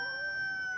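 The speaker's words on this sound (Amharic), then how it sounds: "ዶሮ እስቲ እያስቸገራት ነበር።" A chicken held for slaughter lets out one brief, sustained, shrill squawk, loud and close, with no talking.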